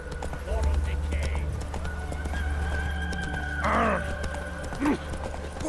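A horse trots and clip-clops in the video game The Witcher 3, with a whinny and snorts breaking through; a voice talks over the steady hoofbeats.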